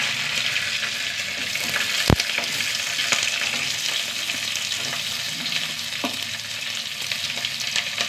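Onion sautéing in a pan with mustard seeds, dried red chillies and curry leaves, a steady bright sizzle with scattered pops and a sharp utensil tap early on.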